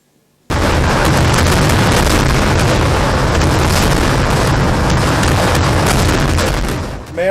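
A predawn fireworks barrage at the Thrissur Pooram festival, set off by the Thiruvambadi and Paramekkavu factions. It bursts in abruptly after half a second as a loud, continuous roll of overlapping booms and crackling explosions that never lets up.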